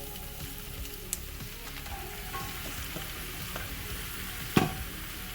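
Whole spices fry in a pan for a vegetarian samosa filling, giving a steady, close hiss with light scraping, then a sharp thud and a brief burst of louder sizzle as potatoes go in near the end.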